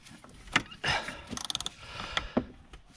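Ratchet and 27mm socket working loose the oil filter on a BMW F20 116d diesel, giving a few close, short mechanical clicks and clacks with brief bursts of metallic rattling.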